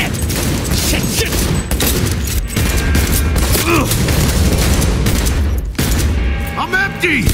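Dense, sustained gunfire fills a Cyberpunk 2077 firefight, rapid bursts and booming shots layered over one another, with shouting voices mixed into the chaos.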